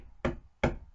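Two firm knocks on a door, evenly spaced and close, with nothing else around them.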